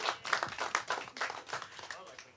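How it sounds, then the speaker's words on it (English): A small audience at a Science on Tap bar event gives the EPA a round of applause: light, uneven clapping, fairly quiet and brief, with voices mixed in. "so give the EPA a big round of applause"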